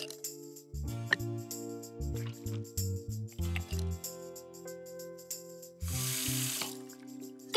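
In a cartoon, a tap is turned on and off in short bursts, each spurt of running water brief and quiet, ending with a longer hissing stream from the faucet.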